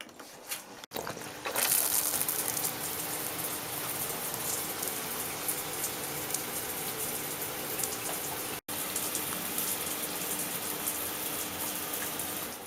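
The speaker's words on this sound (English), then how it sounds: "So let me turn on the shower to show you exactly where the leak is coming from." A running shower in a UK bathroom, with water leaking where the shower head meets the hose, gives a loud, continuous spraying hiss that starts abruptly and holds steady, briefly cutting out once.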